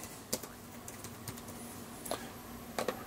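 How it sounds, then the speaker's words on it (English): Soft, sparse keystrokes on a computer keyboard, a handful of faint clicks and short taps spread across a few quiet seconds with no talk. "I just type it in on the trackpad"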